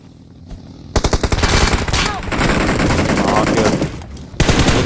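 Rapid bursts of automatic gunfire from a mobile shooter game played on an iPhone 13, loud and close, coming in dense repeated volleys with short pauses between them.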